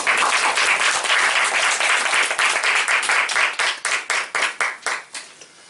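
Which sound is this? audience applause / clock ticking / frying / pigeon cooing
audience applause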